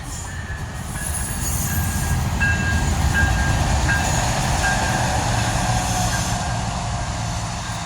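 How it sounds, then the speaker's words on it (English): A train rumbles past near a park, a steady loud roar with wheel noise and faint high squealing from the rails throughout. "You can wave to the train if you want."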